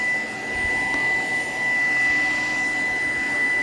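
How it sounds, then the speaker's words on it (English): A Shark vacuum cleaner runs steadily across a kitchen floor, a loud, continuous motor whine and airflow hum that holds close and unbroken with no talking. "so I can vacuum over here a little bit"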